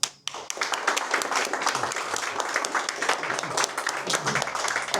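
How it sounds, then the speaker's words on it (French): Audience applause at a gathering, a steady burst of many hands clapping that starts abruptly and continues evenly, fairly close and without talk over it. "pour ça, on peut l'applaudir"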